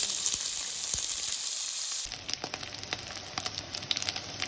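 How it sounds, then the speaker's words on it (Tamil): Dried anchovies (nethali karuvadu) fry in hot oil with a steady, bright sizzle that carries on throughout, becoming more crackly and spattering partway through, and no one speaks. "கொஞ்சம் எண்ணெய் விட்டு நெத்தலியை லைட்டாக பொரிச்சு எடுக்க போகும்"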